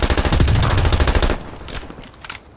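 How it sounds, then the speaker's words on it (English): Call of Duty gunfire on the Nuketown map as a player shoots through a wall: a loud, rapid automatic burst for over a second, then scattered fainter shots trailing off. "Kill him, shoot the wall."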